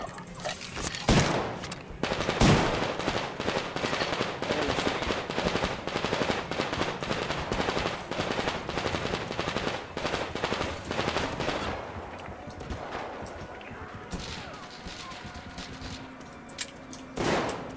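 Sustained automatic gunfire from a weapon in the video game Metro Exodus, a loud, rapid, continuous stream of shots lasting many seconds that thins out toward the end, with a few heavier single blasts.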